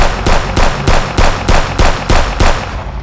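Seven evenly spaced gunshots from a rifle in a French-language apocalypse game, loud, close and punchy, fired in a steady rapid rhythm with short gaps between blasts.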